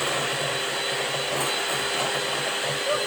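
Electric mixer beating butter for white chocolate icing, a continuous motor whir with a faint pulsing hum that runs steadily throughout and sounds close by.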